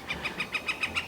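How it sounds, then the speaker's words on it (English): A bird calling in a forest along a mountain trail, a rapid series of seven evenly spaced, bright repeated notes like a chattering laugh, clear and fairly close. "I think there's a bird laughing at me"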